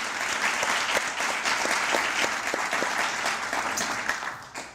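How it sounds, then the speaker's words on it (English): Audience applause at a Charlotte, North Carolina family dinner event, a dense, steady wash of clapping from a large crowd that holds strong throughout and tapers slightly at the end. "So please join me in just giving a round of applause to John and this amazing organization."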